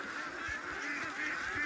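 Farm ducks call in a harsh, honking run of quacks that goes on steadily at moderate distance over a constant background hiss, with no voices.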